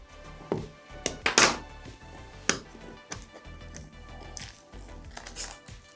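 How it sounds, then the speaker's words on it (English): Knife slicing through the sticker seal on the box of a Hollyland Lark M2 wireless microphone, a few sharp close taps and thunks with one brief scraping cut, no talking. "Cut the label."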